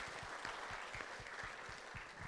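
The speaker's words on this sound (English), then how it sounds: "Let's put our hands together for the coaches who have dedicated their time in supporting all of you." Audience at a FIRST Tech Challenge championship in Australia applauding, dense continuous clapping from a large crowd, fairly distant and even throughout.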